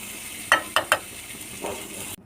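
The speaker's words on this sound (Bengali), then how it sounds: "তিলটাকে তেলে দিয়ে দেব। তিলগুলো হাফ ভেজে নিয়েছি" Sesame seeds fry in hot oil in a pan with a steady sizzle, broken by a few brief scraping stir sounds near the start.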